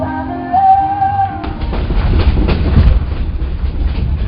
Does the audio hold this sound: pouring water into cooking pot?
no